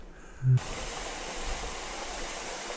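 Yeonsan Falls on Naeyeonsan mountain in Pohang pours between snow and ice in winter, a steady broadband rush of falling water that starts abruptly after a brief low thump and continues evenly.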